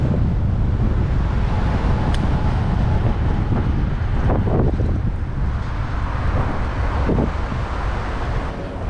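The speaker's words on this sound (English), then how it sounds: "Wind is really ripping." Strong wind buffets an action camera microphone outdoors, a steady loud roar with rumbling gusts throughout and no speech.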